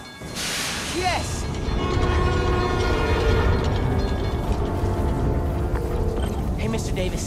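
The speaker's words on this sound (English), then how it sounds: "My trusty New York subway." A New York subway train in the Spider-Man: Miles Morales video game powers up with a rising electrical whine and hiss, then a sustained mechanical hum and rumble, loud and close, with a brief voice near the start.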